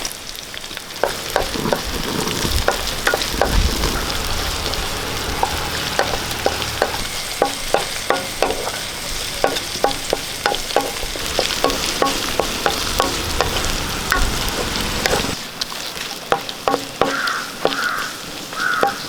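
Dried red chillies, torn shallots and green chillies sizzle steadily in coconut oil, with a spatula scraping and clicking against the pan throughout, while crows caw in the background.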